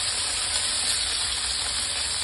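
Chicken wings sizzle steadily in a frying pan over low heat, a continuous, even hiss of hot oil with no pauses.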